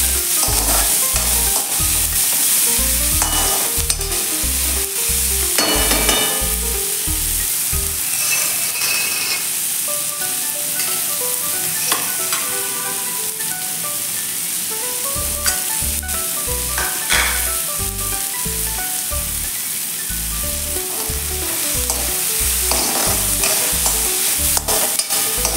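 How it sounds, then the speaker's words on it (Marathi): Chopped onion sautés and is stirred in a pan for a sprouted moth bean usal, with a steady sizzle under repeated rhythmic scraping and stirring strokes, close and fairly loud throughout. "कांदा 2 ते 3 मिनिट आपल्याला छान परतून घ्यायचा आहे।"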